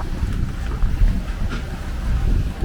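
A sailboat motoring straight into an 11-knot headwind off the coast: a steady low engine rumble mixed with wind buffeting the microphone, loud and continuous.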